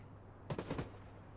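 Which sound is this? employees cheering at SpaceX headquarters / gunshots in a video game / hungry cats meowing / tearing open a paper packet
gunshots in a video game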